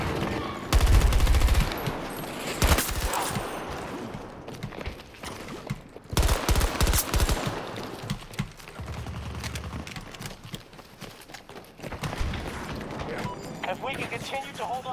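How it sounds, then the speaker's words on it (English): A grenade detonates amid a firefight in Battlefield 2042, one of several loud blasts among bursts of gunfire and rumbling explosions, with voice chatter underneath. "That's a grenade."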